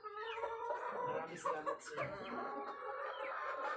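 Chickens cluck and squawk close by in a short burst of overlapping calls, fairly quiet, with a few sharper cries among them.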